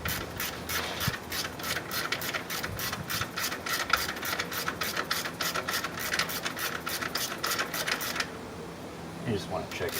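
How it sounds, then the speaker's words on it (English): A ratchet works the serpentine belt tensioner on a 1998 Jeep Wrangler TJ, giving a steady run of rapid, close clicking and rasping strokes for about eight seconds before it stops. "So just flip the ratchet the other way."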